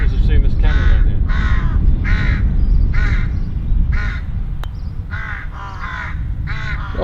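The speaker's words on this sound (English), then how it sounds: "Steve, I think those crows are laughing at you, mate." Several crows caw repeatedly on a golf course in West Cornwall, a series of loud, harsh calls in rapid bursts over a constant breezy outdoor background.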